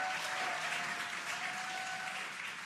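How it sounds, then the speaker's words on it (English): A crowd watching the Dragon Freedom spacecraft's parachute descent and splashdown on astronauts' return from the space station cheers steadily, a dense continuous wash of distant voices and clapping with a faint steady tone running through it. "You can hear the crowd here."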